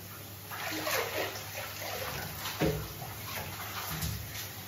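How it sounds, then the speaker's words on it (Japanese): Water from a shower sprays into a new bathtub, a steady hissing splash with uneven spatters, heard close and continuous, with no talk. "ちょっとこれ新しい湯船なんで、ちゃんとシャワーしますね。"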